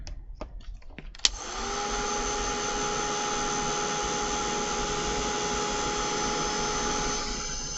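A heat tool blasting air to quickly dry a craft project with acetate, kicking in after a few clicks and then running as a steady, loud, whirring blow with a high whine until the end.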